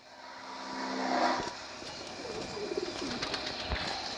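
Soft, repeated cooing of Madrasi pigeons kept for sale, heard up close with some light background noise and no talking.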